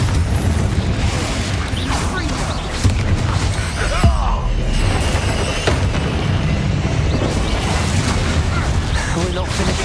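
Confringo spell blasts during combat in the video game Hogwarts Legacy, loud booms and crashes in a busy, continuous battle mix, with voices speaking over the action.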